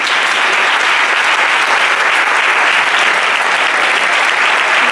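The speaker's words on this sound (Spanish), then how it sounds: "y a don Antonio Guerrero Amador, para los que pido un aplauso." A crowd at a business awards ceremony in Marbella applauds, dense, continuous clapping at a steady loud level throughout, with no talk standing out.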